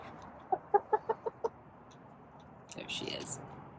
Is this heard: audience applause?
no